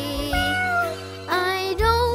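A cat meows three times in quick succession, loud and close, each call a drawn-out, sliding cry with short gaps between them.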